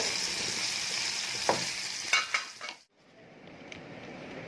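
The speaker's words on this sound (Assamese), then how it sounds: "লেটা ভজা হৈ গ'ল, ভাতৰ লগত খাম এতিয়া।" Leta being fried in a pan as a dish for rice, with a steady broadband sizzle, a few utensil clinks and stirs, a brief gap, then a quieter sizzle resuming close by.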